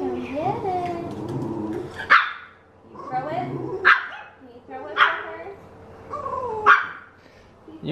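A big dog gives several sharp, loud barks spaced a second or two apart, mixed with whining and whimpering between them, while a person talks over the noise indoors.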